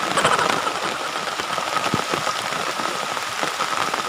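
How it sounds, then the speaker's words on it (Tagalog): Rain falls on a mountainside during a banana harvest, a dense, steady patter of drops on leaves and surfaces, close and constant with no voices. "Naabot na ako ng ulan."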